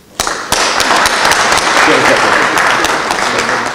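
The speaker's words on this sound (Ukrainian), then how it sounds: "вони достойні ваших найбурхливих оплесків" Audience applause at an Odesa law academy anniversary celebration, honoring staff who risked their health to save the university: a dense, loud wash of clapping from a large crowd that starts abruptly and holds steady throughout.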